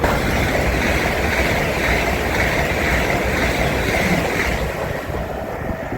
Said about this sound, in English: LNER Azuma has gone through